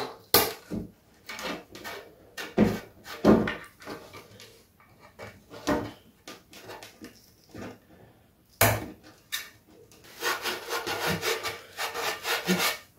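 Holes are cut through skateboard grip tape laid on the deck, heard as close, rasping, saw-like scraping strokes in uneven bursts separated by brief pauses, ending in a longer run of rapid rubbing.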